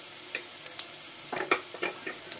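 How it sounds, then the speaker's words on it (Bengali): Black cumin seeds hit hot oil in a pan where potatoes have just been fried, giving faint, scattered crackles and pops without any talk. "একটু কালো জিরে দিয়ে দেবো আমি,"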